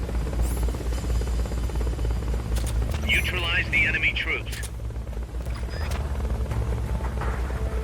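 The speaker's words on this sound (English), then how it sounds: "I'm just gonna bomb the fuck out of the helicopter" Enemy helicopter in the Metal Gear Solid Peace Walker video game, a steady low rotor drone running throughout under game sound effects and a short spoken line of dialogue.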